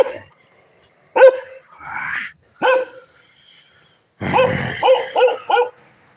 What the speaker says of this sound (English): Here we go with these dogs.